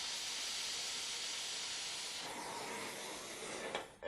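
An oxy-propane torch gouges metal with a continuous broad, roaring hiss that holds steady throughout, shifting slightly in tone near the end.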